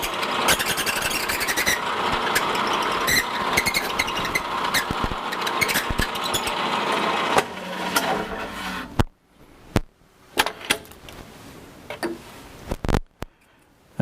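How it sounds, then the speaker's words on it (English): A drill press runs with a busy whirring hum as a Colt Pinmakers bit bores into an acrylic pen blank, then stops, leaving sharp isolated clicks and taps in near silence. "So let's drill."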